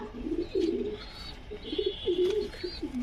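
Low-flying pigeons kept at a home loft in Krishnanagar coo in a series of distinct, close throaty phrases, with a few faint higher chirps above.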